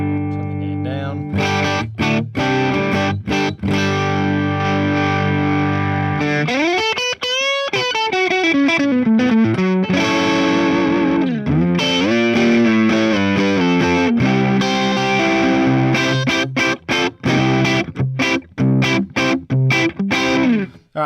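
An electric guitar runs through a Fender Tone Master Pro as its gain is adjusted, with distorted chords and single notes, pitch bends and gaps between phrases, loud and close.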